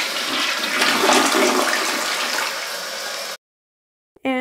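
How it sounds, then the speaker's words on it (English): A household toilet flushes loudly and close, a rushing roar of water lasting over three seconds that stops abruptly. After a brief silence a short burst of sound follows. "Okay, now I'm gonna flush."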